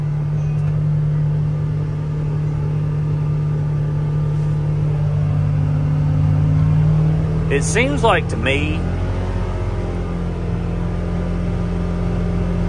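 A 2024 Polaris Xpedition UTV engine drones loudly and steadily while riding on a trail at speed, a close continuous rumble with a brief whine near the middle, and someone talks over it.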